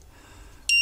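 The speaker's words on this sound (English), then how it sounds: "Oh, that's a lovely beep too." An LED clock kit gives a short, sharp electronic beep, two quick bright tones close to the mic after a quiet moment.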